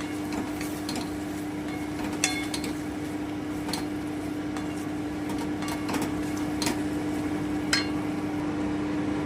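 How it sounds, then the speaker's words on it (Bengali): Fried chicken pieces are tipped into cooked masala in a pan and stirred, giving scattered metallic scrapes and clinks of a spoon against the pan over a steady low hum, with no talking. "এবারে আমি ভেজে রাখা চিকেনগুলো দিয়ে দিচ্ছি আমি একটু নেড়ে দিচ্ছি"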